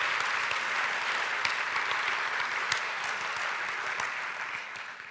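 A congregation applauds a band at a live-streamed ELCA synod gathering, a steady wash of many hands clapping that holds evenly for several seconds before easing slightly at the end.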